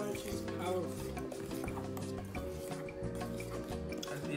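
Spoon stirring cornstarch into batter in a bowl for a chicken sandwich, a soft continuous scraping and clinking under a low steady hum.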